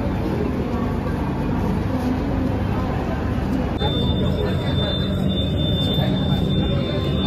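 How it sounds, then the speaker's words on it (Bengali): Steady, loud broadband rumble of the Sealdah–Jammu Tawi Humsafar Express passenger train pulling out of Gaya Junction, continuous throughout with a faint high whine joining midway and indistinct voices in the background. "একদম নির্দিষ্ট টাইমে আমাদের ট্রেন ছেড়ে দিল গয়া জাংশন থেকে।"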